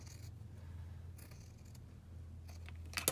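Scissors trim a small edge off a piece of cardstock for a handmade card, giving a few quiet snips that grow crisper near the end over a faint steady hum, with no talking.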